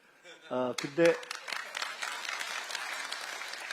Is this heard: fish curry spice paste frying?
no